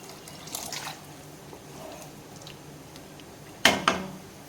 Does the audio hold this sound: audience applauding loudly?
no